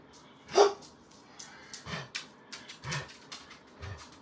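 Several dogs at home bark in a loose run of sharp woofs, one loud close bark followed by smaller barks, yips and breathing in between.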